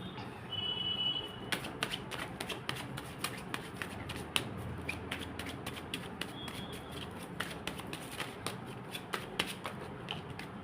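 Tarot cards are shuffled by hand in repeated quick riffling bursts with soft taps and flicks, close and quiet, with no talking over them.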